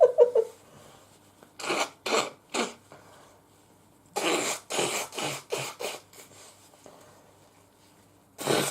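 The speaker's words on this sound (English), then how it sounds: "Excuse me for a minute while I blow my nose off screen." A person blows their nose off to one side in a series of close, forceful rasping bursts: one early, three in quick succession, a longer cluster of about six, then a final blast, with quiet gaps between.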